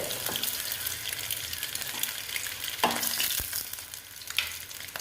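Eggs fry in hot oil with a constant close sizzle, broken by a few sharp clinks and scrapes as they are lifted out of the pan.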